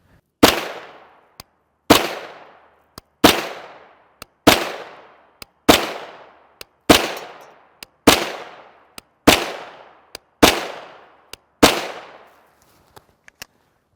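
Ten spaced single gunshots from a CZ Scorpion Evo 3 S1 SBR firing 9mm 115-grain FMJ with Sterling brass cases, each a sharp loud crack with a decaying tail, fired at a slow steady pace with no talking.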